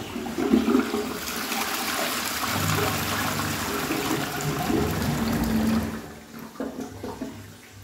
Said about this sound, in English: This is why I do not like a 6 litre flush.